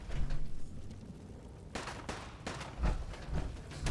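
Gunfire in the video game Fallout 4, a few scattered shots and muffled bursts at moderate distance, irregular and fairly faint against low background noise.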